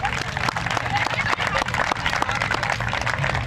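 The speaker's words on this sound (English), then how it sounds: "Give them a round of applause" A crowd applauds fathers at an outdoor field renaming ceremony, with brisk, sustained clapping mixed with cheers and crowd murmur, moderately loud and steady.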